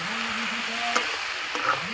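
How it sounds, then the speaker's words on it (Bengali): Bombay duck fish rubbed with salt and turmeric fries with a cumin-coriander paste in a pan, a steady close sizzle with a couple of brief scraping stirs and light clinks. "লোটে মাছটা দিয়ে একটু ভাজা ভাজা করে নিয়েছি"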